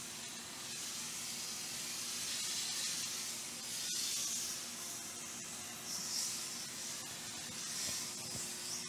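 A hose nozzle sprays cold water at close range to wash out a stencil mask for fused art glass, making a steady, quiet hiss with a few brief surges.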